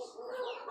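A rooster clucks in one short, close, fairly loud burst with no speech over it.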